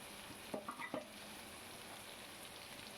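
Potatoes and onions with turmeric and salt are stirred in a pan, with a soft low sizzle and a few brief scraping strokes near the start, faint and close, with no talking.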